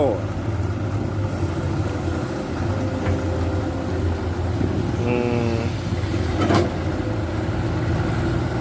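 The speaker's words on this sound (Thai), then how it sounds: "ตักดินใส่เจ้าสิบล้อ มิตซูมิชิฟูโซ" A Komatsu PC210-10M0 excavator dredging a large reservoir scoops soil into a Mitsubishi Fuso ten-wheeler truck, with a steady low engine drone throughout and a voice talking briefly over it.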